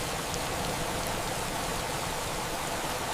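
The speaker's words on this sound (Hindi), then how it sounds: "देखो तो सही कैसी भयानक बारिश हो रही है।" Heavy rain pours steadily over a garden, a dense, unbroken hiss that stays even and loud for the whole stretch with no voices.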